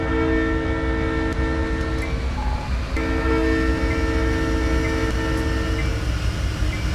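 An SP Dash 9 diesel locomotive in Train Simulator on Donner Pass holds a steady throttle test, its engine drone thick with sustained tonal harmonics, loud and continuous with a brief dip midway.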